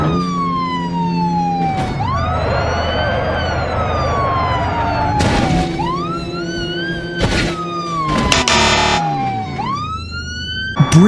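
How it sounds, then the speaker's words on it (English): Abu Dhabi police car siren sounding loud and close, a wailing tone that rises and falls in long sweeps, broken by several brief bursts of noise. "Abu Dhabi police car."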